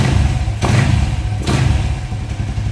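Motorcycle engine idling with a faulty racing throttle position sensor, a steady low rumble throughout with two brief louder surges, no talking.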